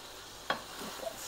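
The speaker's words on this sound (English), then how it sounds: "Stir it up a little bit." A spoon scrapes once through taco soup with onion in a pot, a single quick stir over a faint simmering sizzle, soft and close.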